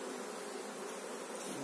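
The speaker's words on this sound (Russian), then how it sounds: "Пчелы вот много прилетает, летный." Honey bees of a local strain hum around an open hive as foragers fly in, a dense steady buzz, faint and continuous with no voices.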